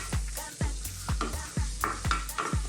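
Chopped tomatoes and onion are stirred in a sizzling pan for a fish steak curry, with steady frying hiss broken by repeated rhythmic scrapes of the spoon against the pan.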